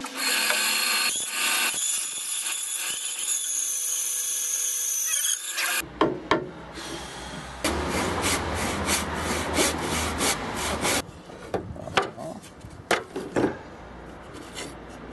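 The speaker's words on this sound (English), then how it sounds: "So what we're going to do is saw it down the line with the bandsaw." A bandsaw rips down a line through a wooden guitar neck blank, giving a steady loud whine and rasp that drops away partway, followed by shuffling, knocks and scraping of the wood on the table.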